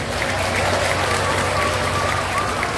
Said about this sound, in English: Let's hear a wonderful, loud applause for these amazing children.